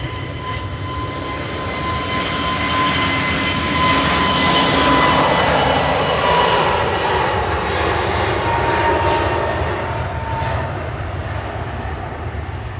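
An Etihad airliner departing Manchester Airport, its engines a loud, steady roar that swells through the middle and slowly eases, with a faint whine riding over the broadband rumble.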